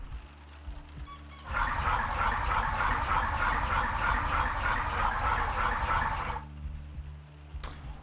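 A water pipe sound effect for a point-and-click video game: a dense, steady gurgling rush of flowing water starts abruptly, holds loud and even for about five seconds, then cuts off, leaving a low hum. No one speaks.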